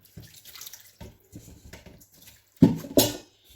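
A small amount of water poured while cooking meat with onion on a gas stove, brief splashing and trickling in short bursts, ending with two louder close splashes.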